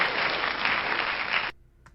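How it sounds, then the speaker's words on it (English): A burst of crowd applause, dense and steady, that cuts off abruptly after about a second and a half and leaves near silence. "here's some applause"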